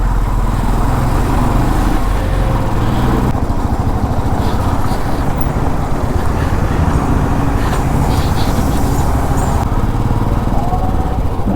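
From a motorcycle stuck in an Indian road traffic jam on a foggy long-distance ride, a loud, steady engine drone mixes with wind buffeting and the surrounding idling and creeping vehicles.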